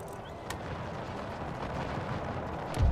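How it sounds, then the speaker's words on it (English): Artillery fire rumbles across a Napoleonic-era battlefield in the Empire 2 strategy game, with a sharp distant crack early on and a heavier close boom at the end over continuous low battle noise. "Can I get artillery fire just bouncing through here, maybe?"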